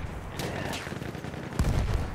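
Battlefield 1 gunfire, a rapid burst of shots with a heavier boom near the end, mid-distance and continuous against the battle noise.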